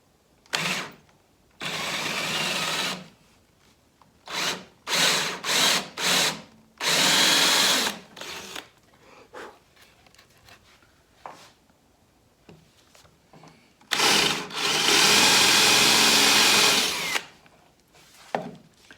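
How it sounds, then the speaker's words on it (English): A power drill with a 1/2-inch Forstner bit bores into oak in repeated bursts, a few short pulses and then longer sustained runs, loud and close with brief pauses between. "So I've got a 1/2-inch Forstner bit here, and I'm just going to drill down through this hole"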